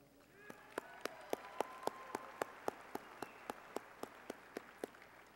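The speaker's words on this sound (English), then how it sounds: "A round of applause for Langston" Clapping at a university commencement ceremony comes as a quiet, steady run of about sixteen evenly spaced single claps against a faint hum in a large hall.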